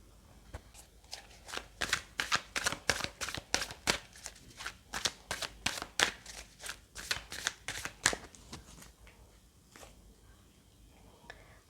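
Tarot cards shuffled in a steady run of crisp riffling slaps, around twenty quick bursts close up and quiet, trailing off into near silence at the end.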